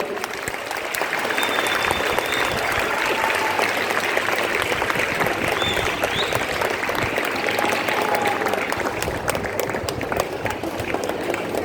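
Sustained audience applause at a state-level Yakshagana competition prize distribution, a steady wash of many hands clapping throughout, fairly close and loud, with faint voices underneath.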